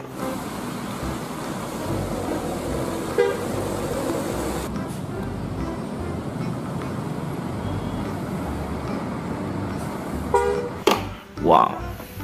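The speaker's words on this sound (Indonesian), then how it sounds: "Yuhu, bis Transjakarta." A Transjakarta bus passes by on a busy road amid a steady roadway rumble, then gives a short, sharp horn toot near the end.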